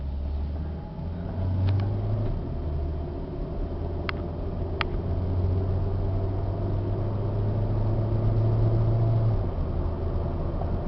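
An Infiniti G20 cruises down the highway at about 55, heard from inside as a steady low engine and road drone with a few faint clicks, constant and unbroken.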